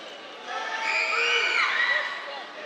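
A high school basketball crowd in a gym between Pleasant Grove and Lehi roars and whoops after a made free throw, a swelling burst of shouting voices that rises, peaks and trails off, with talk mixed in.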